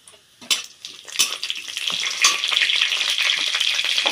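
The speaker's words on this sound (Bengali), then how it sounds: "দুটো শুকনো লঙ্কা ছিঁড়ে নিয়েছি, তেলের উপর দিয়ে দেবো।" Dried red chilies and panch phoron hit hot mustard oil, starting with a few sharp crackles and pops before building into a continuous bright sizzle, close and without speech.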